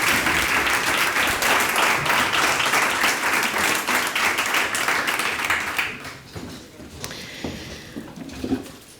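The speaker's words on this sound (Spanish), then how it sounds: "Por favor, un fuerte aplauso para ellas." Loud, sustained applause from an audience at an informative breakfast for International Childhood Cancer Day, dense clapping for about six seconds before fading into scattered claps and room noise.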